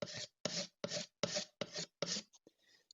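A steel scraper works over the inside of an Amati copy violin being refinished, making six even, rasping strokes at a steady rhythm, close and fairly quiet, with a few lighter scrapes trailing off at the end.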